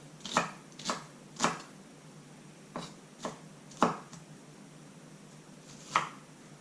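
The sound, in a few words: slicing food with a knife for tacos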